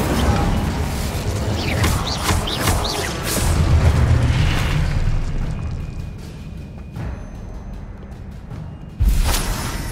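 An Expelliarmus spell cast during a boss fight in Hogwarts Legacy, heard as loud booming bursts and whooshing magical effects that fade to a quieter rumble, then another sharp low impact near the end.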